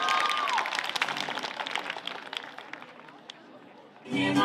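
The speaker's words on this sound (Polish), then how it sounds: "oklaski." Audience applause at a school event with a dense patter of clapping after a voice announces the next act, fading slightly before speech and music return at the end.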